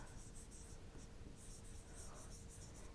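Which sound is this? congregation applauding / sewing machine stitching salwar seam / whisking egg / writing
writing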